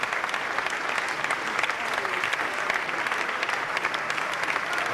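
Dense, steady applause from a large crowd at a 20th anniversary party in Santa Fe, with scattered cheers and voices mixed into the continuous clapping for the whole stretch.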